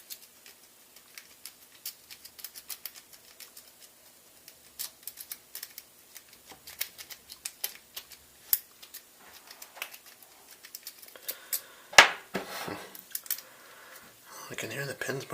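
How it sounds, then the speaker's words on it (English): A rake pick scraped rapidly across the pins of a pin tumbler lock, giving dense, fast metallic clicking and ticking that grows busier toward the end, close up and without speech. "Let me try a rake real quick."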